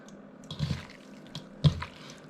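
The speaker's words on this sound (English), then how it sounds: "I'm going to squish my slices around a bit, and then a bit more" Lamb liver slices are squished around in a fish sauce marinade, making a few wet squelching and sloshing bursts, close and fairly quiet with short pauses between.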